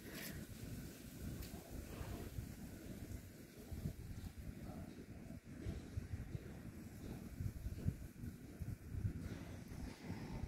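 Steady outdoor wind buffets the microphone on a Philippine tour between Cebu and Davao, a continuous low rumbling roar that stays loud throughout with gusty swells and no talk.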